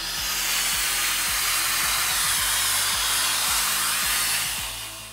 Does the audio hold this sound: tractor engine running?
no